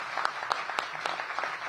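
Scattered audience applause inside the Atlas Theater, a performance venue on H Street Northeast in Washington, DC, at a mayoral event; sparse, uneven claps of moderate loudness with no steady roar, heard without talk.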